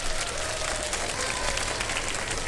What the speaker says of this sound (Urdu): تالیاں ذرا بھرپور ہونی چاہیے یار